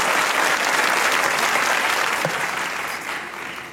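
Studio audience applause on a Pakistani comedy talk show for a musician and actor guest, dense steady clapping that holds for several seconds and slowly tapers off, with no voices over it.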